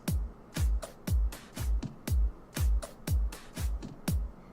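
A drum beat loop from a music software loop library, with punchy kicks and snappy hits in a steady repeating rhythm, moderately loud and alone.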